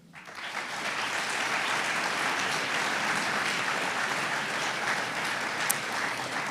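A round-table audience claps warmly for a school head introduced on stage, a steady dense applause that swells within the first second and holds evenly throughout.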